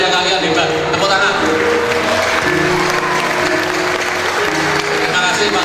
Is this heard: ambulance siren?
no